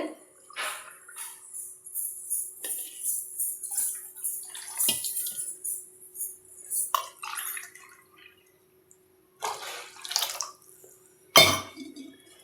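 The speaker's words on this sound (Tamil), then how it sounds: "இப்போது பாசிப்பருப்பு வேக வச்ச தண்ணி சேர்த்துறோம்" Cooked moong dal water poured into a pot of water while making rava pongal, heard as close, intermittent splashing and trickling bursts with short pauses and a final louder pour near the end.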